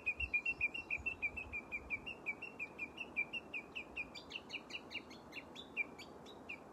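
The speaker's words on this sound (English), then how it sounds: "This bird is really showing off." Bird singing outdoors, a run of clear repeated chirps and whistled notes that grows more varied and elaborate toward the end, heard over a soft, steady background with no talking.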